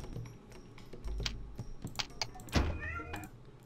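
An indoor cat gives a couple of close, drawn-out meows beside a computer, mixed with scattered keyboard taps and clicks at moderate level.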